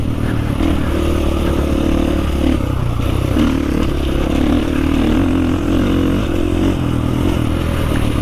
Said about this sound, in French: je vous ai fait cette petite accélération parce que j'ai enlevé la chicane et le bruit est beaucoup mieux